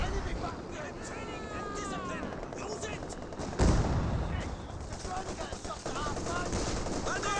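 Bursts of MG34 machine-gun fire and other gunfire in a Company of Heroes 2 battle, mixed under continuous battle noise and voices, with a sharp loud burst midway.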